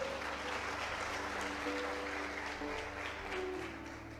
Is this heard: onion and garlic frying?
no